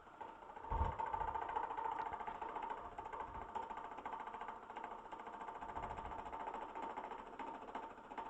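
Wood lathe spinning at speed with a steady motor hum and rattling vibration, a continuous mechanical drone that holds fairly level throughout with a brief louder thump near the start.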